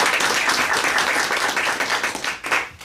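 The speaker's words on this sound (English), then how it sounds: "I think we all should give them another just round of applause" Applause breaks out in a room at a school board meeting: dense, sustained clapping from many hands that fades slightly near the end.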